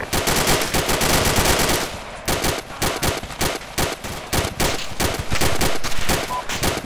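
M240 machine gun firing in the ArmA II military video game; dense automatic fire at first, then a steady run of loud, sharp rapid bursts with brief gaps.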